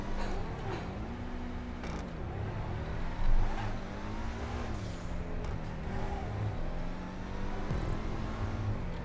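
A Schlagen GT, a Mercedes-like sports car in GTA 5, driven around a corner-heavy track, its engine droning and rising and falling in pitch through repeated throttle changes and shifts, steady and close, with no talk.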